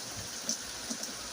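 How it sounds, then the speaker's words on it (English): Heavy rain falls steadily around a shed, a dense close hiss of drops with a few sharper patters on the roof, alone with no voices. "I'm under this shed thingy and the rain has got faster."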